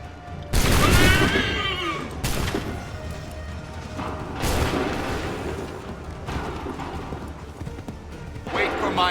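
Musket volleys in Assassin's Creed III Remastered, several loud ragged blasts spaced a couple of seconds apart, with speech over the battlefield din.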